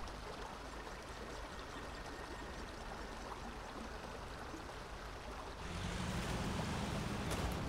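Water in the SnowRunner truck game: a continuous loud rushing, splashing wash like a stream or surf that swells louder and brighter near the end, with no voices.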